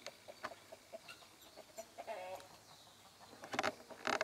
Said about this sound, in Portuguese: Ali tem galinha da Angola. Ah, eu escutei o barulho. Tem galo,